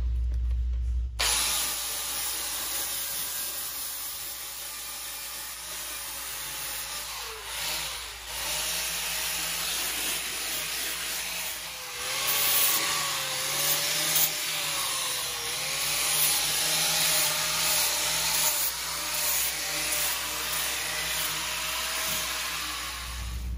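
An angle grinder disc scours the metal frame of a third-generation Toyota 4Runner, clearing coating ahead of welding an outboard shock relocation kit; a steady, close, harsh grinding hiss runs throughout with slight shifts in pitch as pressure changes.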